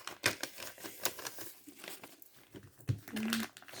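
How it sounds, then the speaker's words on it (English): Buttons rustle against a crinkling paper envelope as they are tucked back inside, a close series of soft papery crackles and small taps with a brief clatter. "So there, I'll put them back in the envelope as well."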